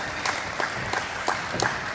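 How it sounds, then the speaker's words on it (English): Scattered applause from a crowd at a fight in Baldivis, Western Australia, uneven bursts of clapping rising and falling over a low murmur. "A round of applause and a round of appreciation for these two great athletes."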